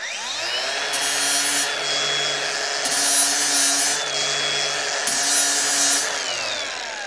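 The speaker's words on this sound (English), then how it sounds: "So this is how you would traditionally use a flap disc." A flap disc on an angle grinder works a weld bead on angle iron, the motor whining steadily while three rhythmic rasping passes of grinding rise and fall against the steel.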